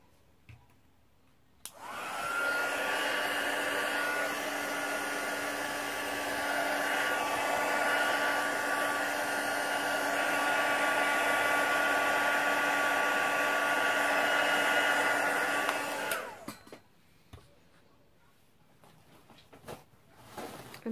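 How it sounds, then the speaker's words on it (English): A heat gun blows steadily for about fifteen seconds, drying a card-making piece. The whoosh is loud and continuous, switching on and off sharply, with no talk over it. "I'm just going to pop my heat gun on and I'm just going to dry over it"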